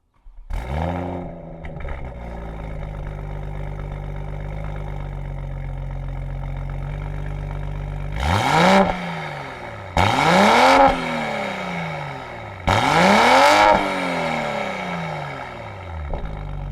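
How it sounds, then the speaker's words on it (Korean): A tuned Toyota Supra with an aftermarket exhaust starts up and settles into a deep, steady idle, then gives three sharp revs that rise and fall back, loud and close. "저 배기 사운드 한번 들어봐야겠죠"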